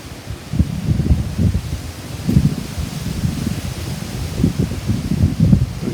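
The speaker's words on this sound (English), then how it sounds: "Very breezy today, as you can probably hear" Steady breezy wind blowing outdoors beside a cabin, a continuous low rumbling buffet with gusts swelling and easing across the whole stretch, fairly loud and close to the microphone, with no talking.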